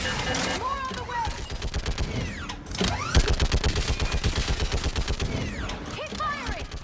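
Heavy sustained gunfire in the Mass Effect 3 battle on Thessia, loud rhythmic automatic bursts with sharp cracks and whooshes throughout, and voices speaking over the combat.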